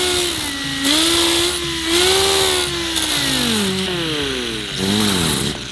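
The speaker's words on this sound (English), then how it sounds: "I'm going to finish shaping it with the orbital part of it." An orbital sander shaping a recreated Ed Iskenderian 1923 Model T hood ornament, with a loud, close motor whine whose pitch rises and dips as pressure on the workpiece changes.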